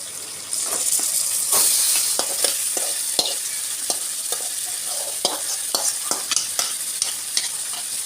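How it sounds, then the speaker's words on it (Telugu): Marinated chicken fries with onions in a pan, a steady sizzle and hiss broken by repeated scraping clicks as the mixture is stirred, close and with no talking. "చికెన్ వేసుకొని కలుపుకుందాం మళ్ళీ ఇప్పుడు దీన్ని ఉడికించుకోవాలి"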